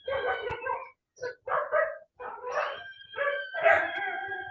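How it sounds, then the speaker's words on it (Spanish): A pet dog barks and yips repeatedly in a steady run of short bursts, close and clear, heard on its own during an online maths class at home. "para que no empiece más que nada a ladrar mi perro también"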